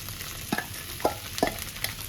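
Cooked khichdi stir-fried in a pan with salt and a little sugar, heard as a quiet low sizzle broken by a few soft spoon scrapes and taps.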